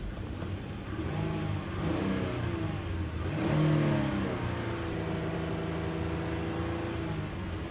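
A car engine revs up and settles back during an alternator check with the battery warning light on, a steady mid-range drone swelling in two broad surges and holding a loud, close idle throughout.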